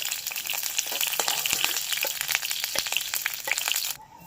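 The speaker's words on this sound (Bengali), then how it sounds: "ডেঞ্জারের জিনিস যা তেল ছিটায়" Fish frying in a hot-oil wok, a close, dense crackling sizzle with sharp spattering pops throughout, cutting off abruptly at the end.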